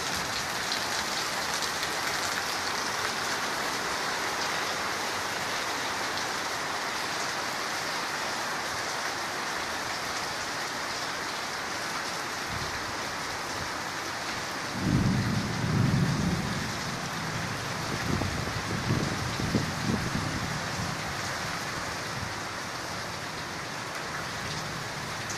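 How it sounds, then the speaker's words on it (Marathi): Heavy rain pours steadily over the Narayan Peth area of Pune during the first monsoon downpour, a dense, constant wash of rain with a few low thuds and rumbles partway through; no one speaks. "पुण्यातल्या नारायणपेठ परिसरात आत्ता पावसाने धुमाकूळ घातलेला आहे"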